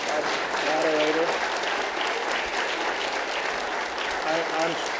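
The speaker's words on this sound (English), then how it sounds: "May we have a round of applause for our moderator?" Audience applause at an energy policy forum in Florida, a steady broad wash of clapping filling the room for several seconds, with faint voices briefly rising over it near the start and end.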